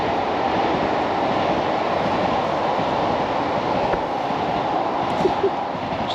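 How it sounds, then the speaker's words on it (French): A RER commuter train rushes past nearby, a continuous loud roar and rattle of wheels on rails that holds steady throughout. "J'attendais que le RER passe."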